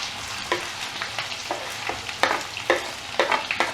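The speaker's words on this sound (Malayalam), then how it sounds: "ഇതിന് ശേഷം സവാള അരിഞ്ഞ് വെച്ചിടുന്നു" Chopped onion sizzles in hot oil with garlic, green chilli and ginger for a bhindi aloo masala, a steady bright crackle broken by several sharp spatula scrapes and stirs, close and fairly loud.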